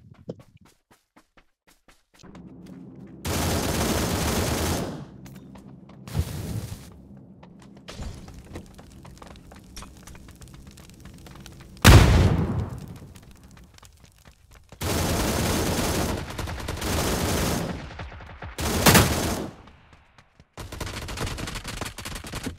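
Bursts of automatic gunfire in the AceLeague battle game, loud sustained volleys separated by quieter stretches, with a sharp impact and scattered footsteps between the bursts.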